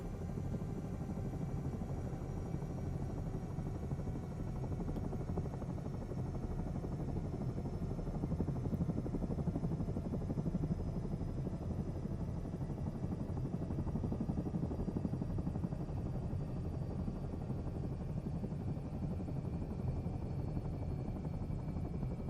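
Helicopter rotor chop from a near-hover, a steady, loud, continuous throbbing beat with engine whine running throughout, no voices over it.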